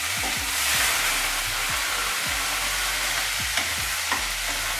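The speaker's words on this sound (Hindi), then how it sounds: "अदरक लहसुन डाल के हमने इसे थोड़ा सा फ्राई कर लिया।" Ginger garlic paste fries in a pot with a constant hiss, while a spoon scrapes the bottom again and again in a steady stirring rhythm.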